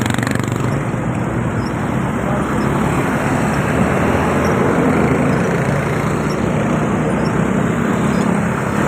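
Steady roar of road traffic in the Philippines, along Katipunan in Marikina and Quezon City, heard from a mountain bike at morning rush. Dense, continuous engine and tire wash with no individual vehicle standing out.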